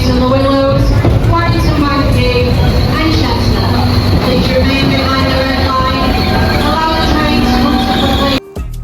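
Steady loud rumble and rattle inside a moving passenger train travelling from Manchester to Wales, with voices murmuring in the carriage throughout.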